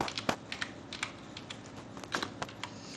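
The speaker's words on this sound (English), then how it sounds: "I can type also from here" Quick, uneven keystrokes clatter on a computer keyboard, close and clear, with light clicks and a few sharper taps over about three seconds and no talking.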